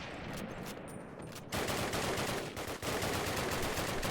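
Gunfire from Call of Duty (2003): a sudden loud burst of shots cuts in and continues as dense, harsh crackling rounds, with no talking.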